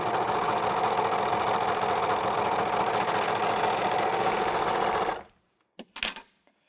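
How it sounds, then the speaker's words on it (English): An American Home serger stitches a piece of fabric in a loud steady run of about five seconds, then stops abruptly, leaving a couple of brief clicks and taps. "Let's start by just stitching a piece of fabric."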